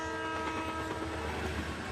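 A train passes on the tracks with its horn sounding steadily over a continuous rolling rumble, fairly loud and sustained for the whole moment, with no speech.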